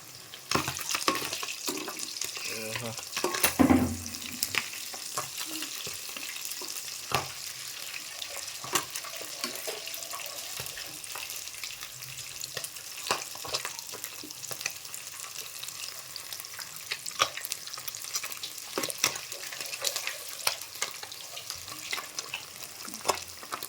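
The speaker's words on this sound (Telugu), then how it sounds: "రెండో వాయి కూడా అయిపోయింది. చేపల ఫ్రై అయితే అయిపోతుంది." Pond fish fry in oil in a pan with a soft, continuous sizzle and scattered pops and clinks of utensils, fairly quiet and without talk.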